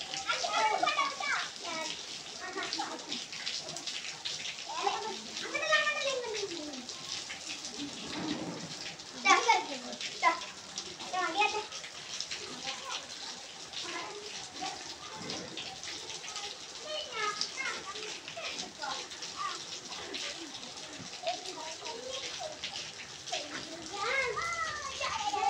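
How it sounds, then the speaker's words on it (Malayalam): Children play outdoors in steady rain in Malappuram, their excited voices and shouts rising and falling over a continuous wash of falling water for the whole stretch. "മഴയൊക്കെ ഇങ്ങനെ പെയ്തുകൊണ്ടിരിക്കുമ്പോഴൊക്കെ മക്കൾക്കൊക്കെ ഭയങ്കര സന്തോഷം, കാരണം അവർക്ക് മഴയത്ത് കളിക്കുക"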